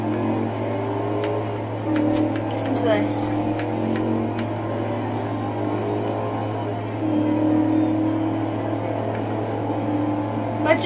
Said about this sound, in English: Listen to that car sound though.